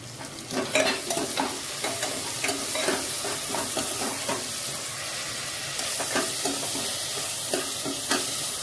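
Onion and tomato frying in a pan, a loud, steady sizzle with rapid, rhythmic scraping stirs up close, pausing briefly then resuming.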